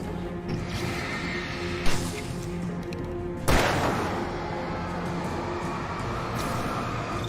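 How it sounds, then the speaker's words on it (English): A flare gun fires in a video game: one sharp, loud blast with a long rumbling tail midway through, following a smaller thump and over steady game background noise. "the flare gun shot is crazy good"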